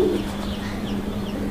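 Soft cooing from a large pair of Madrasi Golla pigeons, a low steady murmur running through the whole moment, close by and without talk.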